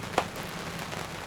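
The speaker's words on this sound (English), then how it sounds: "But now it's raining." Steady rain patters on an anchored sailboat, a soft continuous hiss with one brief louder drop or knock near the start, no voices.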